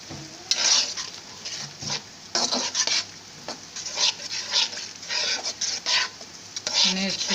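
Black-eyed beans stir-fried in a pan with sugar added, sizzling steadily while a utensil scrapes and stirs in repeated bursts, close up and loud throughout.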